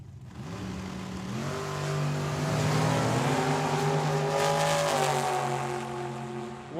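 At Tucson Dragway a dragster and a Camaro launch side by side, engines climbing through rising, stepped revving tones that swell loud mid-run and ease off as they pull away down the strip.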